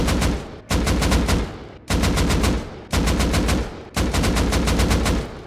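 Rapid automatic weapon fire in Rust Console Edition, fired from a crouch while wearing road sign gloves, sounds as five loud, close bursts, each a tight string of shots separated by brief pauses.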